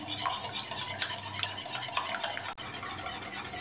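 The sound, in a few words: whisking eggs for chocolate cake batter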